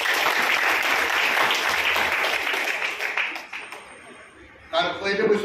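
Dense, loud applause from a meeting audience cheering distributors at a Mi Lifestyle gathering, sustained for several seconds before thinning out and giving way to a voice speaking.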